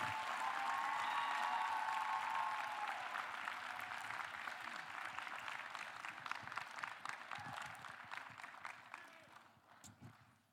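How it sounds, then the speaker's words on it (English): An audience at a teen speaking event gives its speakers a long round of applause, with a brief cheer at the start. The dense clapping starts loud and slowly thins and fades. "Can we have a round of applause for all our speakers?"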